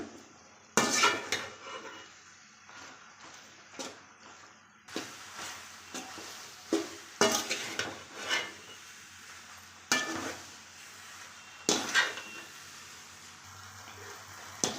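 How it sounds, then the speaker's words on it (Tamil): A utensil scrapes and clinks against a pan as macaroni is stirred into masala. The strokes come in repeated sharp bursts over a soft background sizzle. "இப்போ வந்து எல்லாத்தையும் ஒன்றா மிக்ஸ் பண்ணி விட்டுக்கலாம்"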